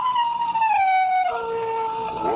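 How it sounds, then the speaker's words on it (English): A wolf howl sound effect in an old-time horror radio drama, a long, clear, wavering tone that slides downward and then holds, heard alone with no talk. "The wolf's awfully close."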